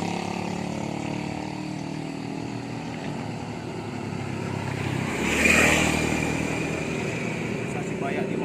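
Motorcycles pass fast along a dangerous road bend, engines droning steadily, with one machine swelling louder as it goes by close before fading, while someone talks over the traffic.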